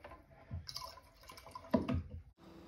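Carpet cleaning solution poured by the capful into the tank of a Bissell Big Green carpet cleaner, a short liquid splash and trickle at close range, lasting about a second and then stopping.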